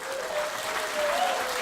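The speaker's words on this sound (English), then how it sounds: "So give yourselves a round of applause." A comedy club crowd at a New Brunswick stand-up show gives a warm round of applause, steady and full throughout with a few faint whoops rising over the clapping.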